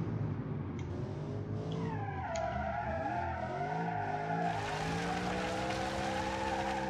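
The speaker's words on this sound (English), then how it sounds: "Yep, you can drift it." Tires squeal and skid steadily as a car drifts through a corner in a racing video game, with a rising, wavering screech layered over a constant engine drone and no voices.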